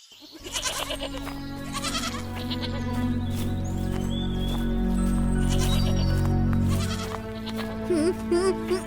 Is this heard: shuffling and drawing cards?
no